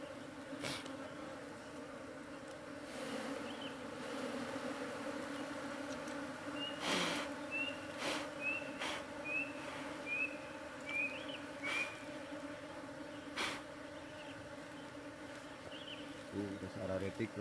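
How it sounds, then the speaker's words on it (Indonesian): Honey bees buzz steadily around an open kaliandra honey hive during harvest, a close, continuous drone with scattered louder passes, faint whistles and occasional knocks. "yang disebut lebah itu kalau misalnya di kampung saya itu disebutnya nyiruan"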